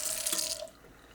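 A measuring spoon is rinsed under running tap water, a brief splashing stream that stops abruptly after about half a second, leaving a faint drip and quiet.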